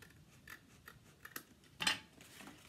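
Scissors trim excess card paper with a few quiet, crisp snips and one sharper, louder cut near the end, heard alone without talk.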